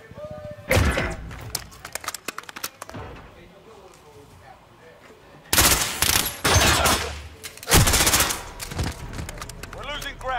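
Video game gunfire: sharp bursts of automatic weapon fire and single shots, close and loud, arriving in clusters separated by quieter stretches, with a voice speaking over the action.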